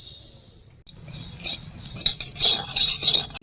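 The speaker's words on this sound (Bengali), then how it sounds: "কালো জিরে কটা একটু ভেজে নেব।" Black cumin seeds toasting dry in a karai, heard as close scraping and stirring of a spoon across the metal pan with light clinks and a soft hiss that grow busier toward the end.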